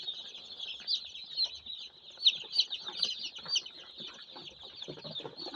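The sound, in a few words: chicks peeping while being handled for sexing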